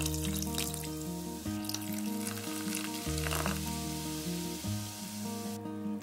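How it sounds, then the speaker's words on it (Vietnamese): A bottle of beer poured into a hot pot of sizzling caramelized pork, a steady bubbling hiss with a constant low tonal hum underneath, close and unbroken, with a brief cutoff near the end. "Cho vào 1 chai bia khoảng 350 ml."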